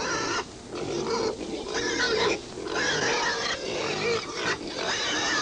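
Several pigs grunt and squeal in a busy, overlapping chorus, loud and close, with short pauses between bursts of noise.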